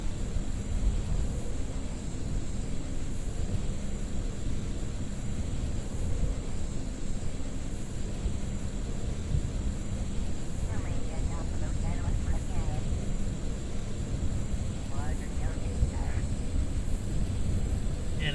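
A steady drone from an aircraft engine during a taxi test in Kerbal Space Program, with a constant hum throughout and a voice talking over it.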